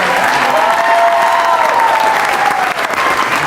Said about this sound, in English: Let's give it up for those last 6 comedians.